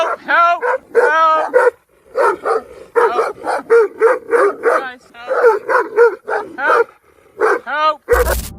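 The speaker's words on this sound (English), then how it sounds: "The animals barked loudly and kept moving closer" Several large dogs bark aggressively and repeatedly in close, rapid bursts, with yips and whining between the barks and short pauses in the barrage.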